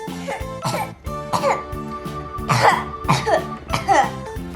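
A child coughs repeatedly in short, raspy bursts, close by, with a faint steady tone underneath.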